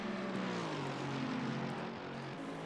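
Helicopter in the Assetto Corsa Competizione racing game, a steady droning rotor and engine hum with a low pitched tone that shifts slightly, heard alone at low level.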